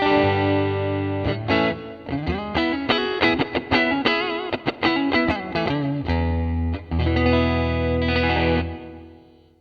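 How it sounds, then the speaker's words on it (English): Electric guitar through a TC Electronic Hall Of Fame reverb pedal set to a neutral room reverb, steady strummed chords and picked notes with a subtle ambient tail, played alone and fairly loud. "with everything at 12 o'clock, I get a great neutral sounding reverb that just gives me a little bit of ambience to my playing"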